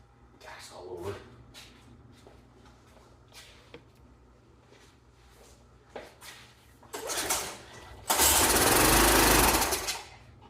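A roadside 30-year-old Toro lawn mower engine, fuel-soaked after its pre-filter, sputters through brief coughing bursts and then catches into a loud, steady roar for about two seconds before cutting out.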